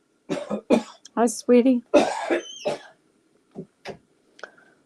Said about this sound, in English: Just my husband, if you heard coughing